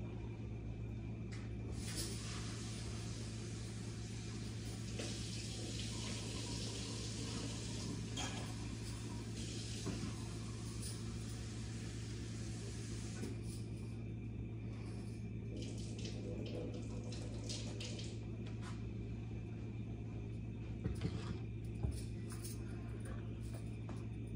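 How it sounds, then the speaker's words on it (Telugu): Faint, steady trickle of tap water running into a kitchen sink while urad dal lentils are rinsed, a low continuous wash with a few small clinks near the end. "పప్పును కడిగి తీసుకొస్తాను."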